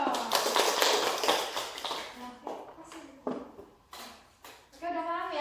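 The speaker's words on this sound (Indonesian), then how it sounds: "tepuk tangan" A small classroom group claps for about two seconds after a student's math presentation, a brief burst of loose hand clapping that fades into scattered taps and a teacher's voice speaking.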